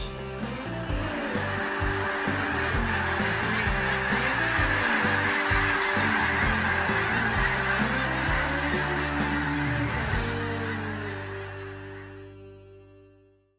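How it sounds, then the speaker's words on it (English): A large flock of snow geese and speckled belly geese honks continuously, a dense chorus of overlapping calls at moderate distance that fades out toward the end. "you can end up leaving with both species, speckled belly and snow geese"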